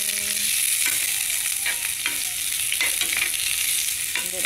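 Garlic and onion frying over reduced heat in a pan, with a steady dense sizzle and occasional soft scrapes as they are stirred.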